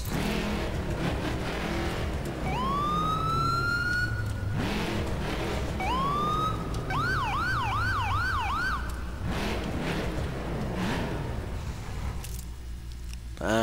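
A wailing police siren on a Pursuit Impala in The Crew sweeps up, then switches to a fast yelp, loud over a steady engine rumble.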